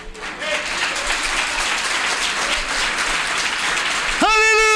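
A church congregation applauding during a sermon, dense continuous clapping that holds steady throughout, joined near the end by a loud sustained tone.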